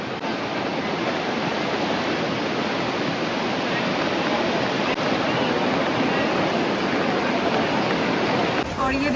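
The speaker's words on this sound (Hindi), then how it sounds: "इतनी जोरों से माँ गंगा का जो बहाव है वो यहाँ पे आ रहा है।" The flooded Ganges roars under the Bhagirath bridge in Haridwar after a cloudburst, a loud, unbroken wash of rushing water filling everything, close and relentless.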